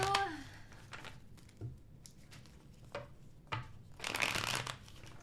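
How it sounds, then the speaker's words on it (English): Tarot cards being shuffled at close range in bursts of riffling and soft patter, with pauses between, quiet and unaccompanied by talk. "let me go ahead and pre-shuffle for Aries"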